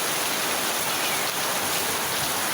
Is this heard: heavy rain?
yes